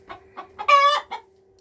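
Mixed backyard hens, some sick and breathing with beaks open, give a short run of close clucks: several soft, quick notes around one louder, drawn-out squawk, over a faint steady hum.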